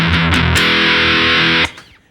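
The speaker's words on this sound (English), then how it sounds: "I have different distortion." Distorted electric guitar through an RC300/HD500X effects rig, a few choppy picked notes and then a sustained, buzzing chord that cuts off abruptly, loud and up close.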